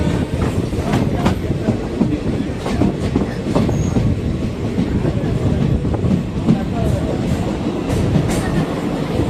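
A passenger train rolls along the tracks near Salem Junction with a continuous heavy rumble and scattered rhythmic clacks, loud and close, as if heard from on board.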